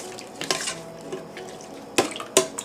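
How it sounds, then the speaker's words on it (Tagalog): Ingredients for Filipino-style sweet and sour pork, including onions and peppers, are stirred in a pan, giving soft scraping with sharp utensil clinks near 0.5, 2.0 and 2.4 seconds over quiet kitchen background. "And of course we will stir everything in here."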